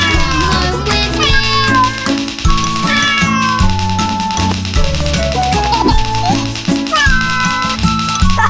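A kitten meows repeatedly in short, high calls, set against a bright, melodic children's song with a steady beat.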